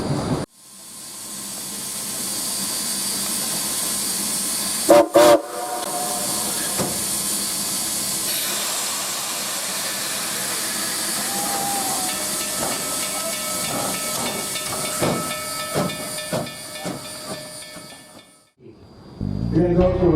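An oil-fired steam locomotive pulling up, with a long steady hiss of steam, occasional clanks and sharp metallic bursts, moderately loud and continuous before cutting off near the end.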